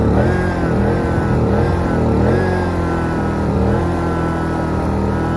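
A Biltema inverter generator runs at a steady, close, fairly loud hum with a gently wavering pitch, with no talking over it.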